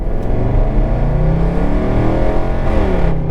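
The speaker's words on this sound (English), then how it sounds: "you can have a little listen on the supercharged V8" Straight-piped supercharged V8 of a Range Rover Sport on the move, a loud, deep, continuous rumble with shifting engine harmonics and a slight rise in revs toward the end, close and alone without talk.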